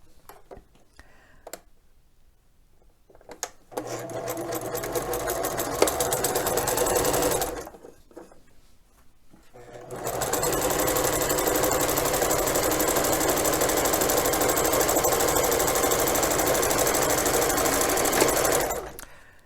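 A sewing machine stitches seams on a fabric basket, running in two long steady bursts with a short pause between them, close and loud. Brief speech shows in the quiet gaps.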